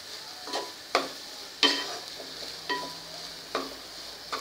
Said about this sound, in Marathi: हळदीचा रंग मसाल्यात उतरेपर्यंत परतून घ्यायचं आहे.